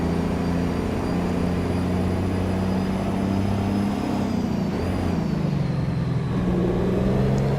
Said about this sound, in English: That's a Cummins ISX. I think it's 500 horsepower.